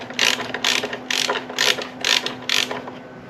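A hand ratchet tightens a bolt on an Opel engine with six crisp, evenly spaced bursts of clicking pawl strokes, loud and close, over a faint steady hum.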